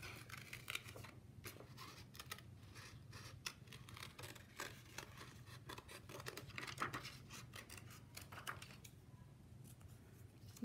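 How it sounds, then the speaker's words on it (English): Scissors snipping paper to cut out small heart-shaped feet for a handprint chick puppet, a close, steady series of quick crisp cuts with no talking. "So I'm going to cut out some heart-shaped feet."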